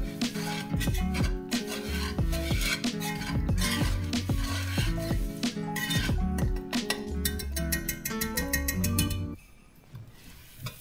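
Butter and sugar being stirred in a pan for caramel: continuous scraping and clinking of a utensil against the pan with rhythmic rubbing strokes, close and fairly loud, stopping abruptly near the end.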